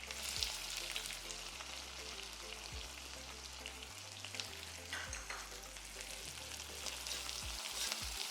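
A steady, dense sizzle of onions frying in hot oil, with occasional stirring scrapes, close up and continuous.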